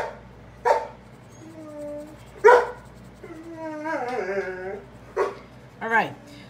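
A pet dog whines and howls in drawn-out, wavering cries with a few short yips, fairly close, while someone talks over parts of it in a quiet room.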